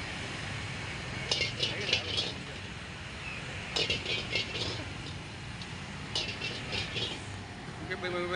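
Metal pans and woks clatter in bursts of rapid scraping and clanking as a street-side chef stir-fries Chinese-style noodles across seven pans at once, the bursts repeating every couple of seconds over steady background hiss and murmur.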